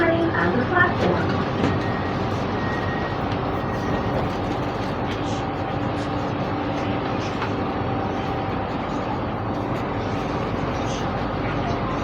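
Steady rumble of a Riyadh Metro train in motion, with constant low mechanical droning and a few faint tones over the running noise.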